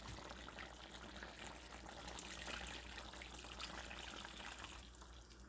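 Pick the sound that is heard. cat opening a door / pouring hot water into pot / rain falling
pouring hot water into pot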